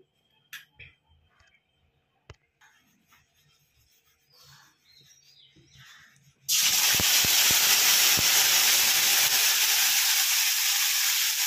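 Spice paste for an okra curry hits hot oil with a sudden loud, steady sizzle and hiss that runs to the end, after quieter clinks and a few brief taps.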